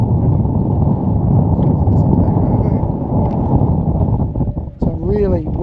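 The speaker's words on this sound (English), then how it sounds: "Again, sorry about that breeze." Strong breeze buffets the microphone on the foredeck of an Azimut 55E motor yacht moored in Adelaide, a loud, steady rumbling roar throughout, with a voice briefly audible near the end.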